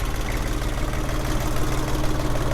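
A Jinma mini tractor's small engine idles close by with an even, rapid low chugging pulse, loud and steady throughout.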